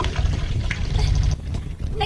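Water pours and splashes steadily into a basin for washing a child's clothes, a continuous close gushing with brief dips in flow.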